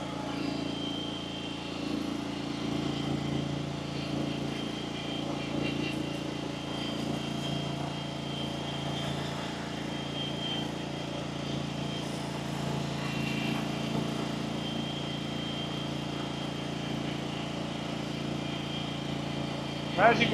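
A Honda-powered 2024 Terra-Spray AWDS-700 sprayer with a 70-gallon tank, all-wheel drive and all-wheel steering, drones steadily at wide-open throttle as it drives, an even mid-level engine hum that holds for the whole stretch.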